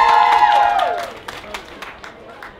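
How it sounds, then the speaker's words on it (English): Crowd in front of the Limerick Pride 2017 stage claps and cheers briefly, overlapping a voice at the start, then fades to scattered claps. "Ruan, a round of applause, please."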